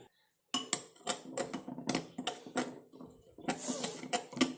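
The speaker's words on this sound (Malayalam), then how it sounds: "ഇൻസ്റ്റൻറ്റ് കോഫി പൗഡർ ഇതിട്ട് നമുക്ക് നല്ലപോലെ ഇളക്കി യോജിപ്പിച്ച് കൊടുക്കുക" Metal spoon stirring instant coffee powder in a small container for a homemade hair dye mix, a run of quick clinking and scraping taps, close and fairly quiet, with no talking.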